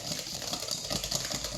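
Lemon juice is whisked into homemade mayonnaise in a bowl, a quick, steady clicking and scraping rhythm that runs throughout, close and fairly quiet, with no voices.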